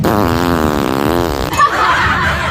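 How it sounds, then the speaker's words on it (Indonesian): A long, loud, close fart with a buzzing, wavering pitch, lasting about a second and a half before cutting off into quieter background noise. "Ada nih, dengerin kentut gue."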